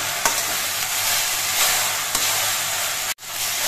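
Jute greens stirred in a pan with salt and turmeric powder, giving a steady broadband sizzle and scraping with a few soft stirring knocks and a brief dropout near the end, no talking.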